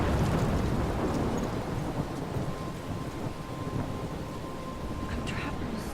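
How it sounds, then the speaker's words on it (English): A thunderstorm in the video game Life is Strange rumbles with low thunder over a constant wash of heavy rain, loud and sustained throughout. "I'm trapped in a storm?"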